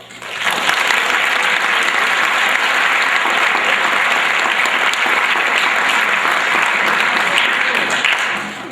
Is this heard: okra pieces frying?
no